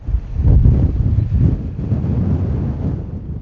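Strong wind buffeting a microphone on a cold, cloud-covered summit in the Arrochar Alps, loud low rumbling gusts that surge and ease without pause.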